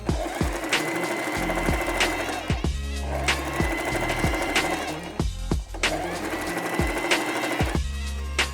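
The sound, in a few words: sewing machine running a straight stitch along a handle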